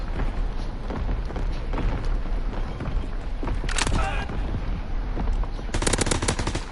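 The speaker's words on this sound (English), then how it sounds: "Incoming enemy artillery. Get to cover." Artillery barrage in a WWII multiplayer video game: a dense rumble of rapid explosions and gunfire-like bursts running throughout, loud and continuous, with sharper crackling volleys near the middle and end.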